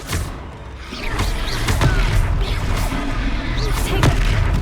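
Confringo blast spells going off in a Hogwarts Legacy battle: a string of booming thuds and crackling bursts over a dense, continuous roar of combat noise, with no clear speech.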